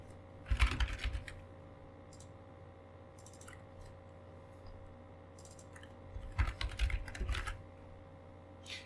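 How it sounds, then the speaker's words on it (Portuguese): Two short bursts of rapid typing on a computer keyboard, clicky keystrokes close by, separated by a few seconds of quiet room hum with a few isolated key taps. "basta você apagar tudo isso e escrever as suas intenções"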